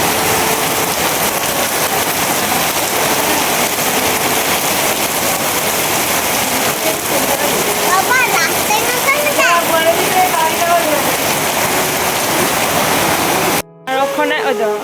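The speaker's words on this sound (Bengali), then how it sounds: "কি বৃষ্টি কেমন লাগছে বৃষ্টি" Dense, loud rain hisses continuously, with faint voices briefly in the middle and a sudden break near the end.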